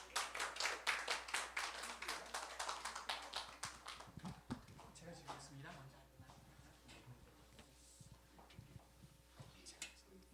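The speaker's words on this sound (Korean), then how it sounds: "나오실 때마다 우리 같이 큰 박수로 맞아주시겠습니다." A church congregation claps in welcome at a drawing contest event, a rhythmic burst of claps that thins and fades out, followed by quieter shuffling and a voice speaking in a large room.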